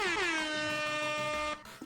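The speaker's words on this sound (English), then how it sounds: "Thank you for the air horn. It's keeping me awake." A loud, sustained air horn sound effect from a video game blares for about a second and a half with a bright, buzzy tone, then cuts off abruptly into quieter trailing noise.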